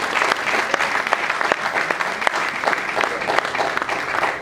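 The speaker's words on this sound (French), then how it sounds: "je vais quand même demander à mes amis d'applaudir pour Félix Oiselbois" Applause at a press conference, a crisp continuous patter of many hands with sharp individual claps popping out, steady and fairly close throughout.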